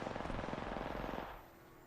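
A fast burst of automatic gunfire in the video game Apex Legends rattles for over a second, then cuts off, leaving a quiet hum.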